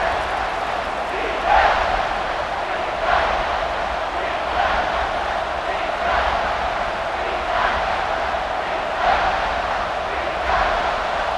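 A large stadium crowd in the College Football 26 game on PS5 roars steadily through a Clemson versus LSU matchup, with rhythmic swells of chanting that rise every second or so, a broad constant wash of noise.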